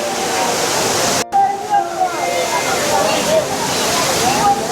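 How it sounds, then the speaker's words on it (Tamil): Water thunders down the main waterfall at Courtallam in a dense, continuous roar, loud and close, with faint voices and whistles mixed in. "மெயின் ஃபால்ஸில் எப்படி தண்ணி கொட்டுது பாருங்கள்"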